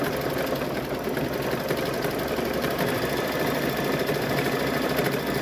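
A Brother Luminaire 2 sewing machine stitches fabric for a table runner, giving a steady, fast mechanical whir and rapid needle chatter close by, continuous throughout with no talk.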